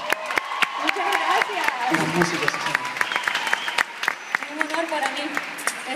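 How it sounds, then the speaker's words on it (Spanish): Audience applause at a live concert at the Fillmore Miami, a steady round of clapping with sharp individual claps standing out, while someone speaks briefly over it. "Fuerte el aplauso"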